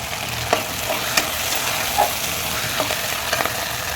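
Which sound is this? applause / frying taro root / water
frying taro root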